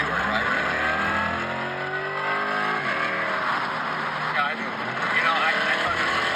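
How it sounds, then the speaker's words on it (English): A Chevrolet Corvette E-Ray engine whines behind a person talking, with a rising and falling mechanical tone that sweeps up and down in pitch, close and fairly loud. "I heard the engine start to whine."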